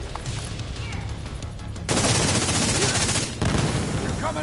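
Video game gunfire in The Division 2, with sustained rapid automatic bursts that swell loud and dense, a brief lull, then another volley, with no talk.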